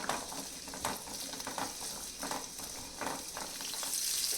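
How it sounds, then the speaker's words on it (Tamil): Shallots and garlic sauté in hot oil while making meen kuzhambu, a steady close sizzle with soft stirring scrapes throughout. "வெள்ளைப்பூண்டு ரெண்டையும் கொஞ்சம் நேரம் நம்ம எண்ணெயில் வதக்கி விட்டுக்குவோம்"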